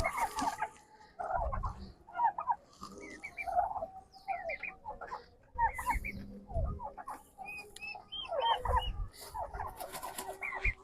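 A hen incubating turkey eggs clucks and murmurs up close in repeated short bursts with brief pauses, accompanied by soft rustling and occasional low thumps.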